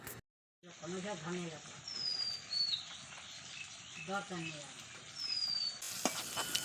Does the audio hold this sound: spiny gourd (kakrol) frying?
yes